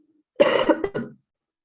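A single rough cough from bronchitis, close up, lasting under a second and breaking into a couple of throaty bursts.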